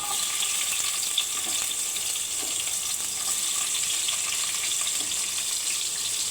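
Onions frying in two to three spoons of hot oil in a kadai on a stove, a steady, dense sizzle that holds evenly throughout with no voices.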